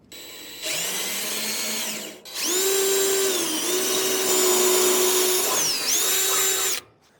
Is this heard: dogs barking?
no